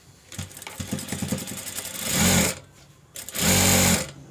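Sewing machine stitching a four-tuck blouse, a close, loud mechanical whirr in bursts, starting with a slow ticking run before two longer fast-running stretches separated by a pause.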